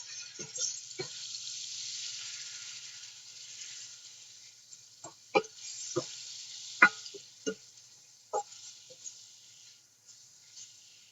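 Rice with vegetables, chicken, turmeric, black pepper and salt being stirred in a pan: a steady frying sizzle runs throughout, with a series of sharp scraping and clinking strokes from the spoon against the pan, moderately close.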